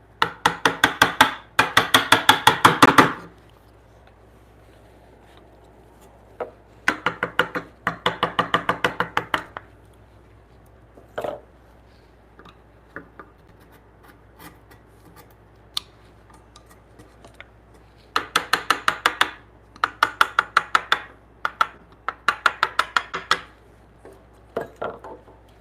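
A small chisel pares into a soft wooden board while fitting joinery, making bursts of rapid crisp scraping clicks up close, separated by quieter pauses with scattered taps.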